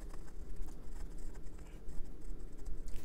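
An Esterbrook SJ celluloid fountain pen nib scratches across paper in quick, continuous strokes, with faint, slightly rough feedback close up.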